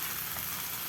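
Cashew nuts fry in a pan with a steady, even sizzle that holds at a constant low level for a brief moment, with no voices.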